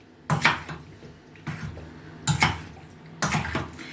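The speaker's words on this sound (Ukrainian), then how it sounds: "Ось цією сумішю ми заливаємо нашу печінку. Усе старанно вимішаємо" Liver being stirred by hand in its marinade in a bowl, three separate bursts of clinking utensil against dish with a wet sloshing edge, spaced about a second apart and fairly close.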